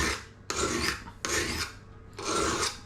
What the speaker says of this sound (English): you run the blade across, make sure you got a firm hold of them, and you're literally going to just run across